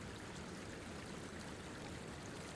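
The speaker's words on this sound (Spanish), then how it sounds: "el río sigue corriendo" Glacial meltwater river running through a mountain valley, a faint, steady broadband rush of flowing water with no breaks and no voices.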